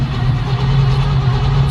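A truck engine cranking over strong without fuel in the carburetor, a steady low rhythmic churning of the starter, close and loud with no talk.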